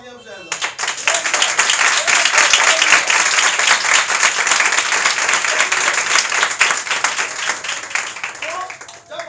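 A church congregation claps loudly during a sermon, a dense burst of applause that swells quickly, holds strong for several seconds and then fades.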